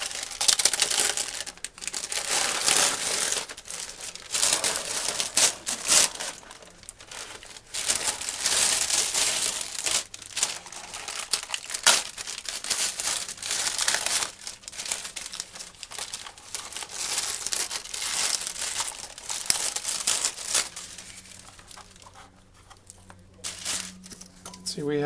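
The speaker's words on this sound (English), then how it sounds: "And if you peel off the wax paper" Wax paper peeled away from a freshly pressed fiberglass mold gives a long crinkling, tearing rustle with bursts of crackle, while a person talks over it.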